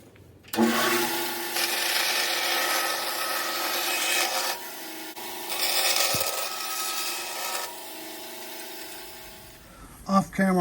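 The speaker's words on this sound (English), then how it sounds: "Now I'm at my 17-inch bandsaw. I have a 3/4 inch carbide blade, resaw blade," A 17-inch bandsaw fitted with a 3/4-inch carbide resaw blade rips through wood in two long cutting passes, a loud rasping whine with a brief pause between, then the motor spins down.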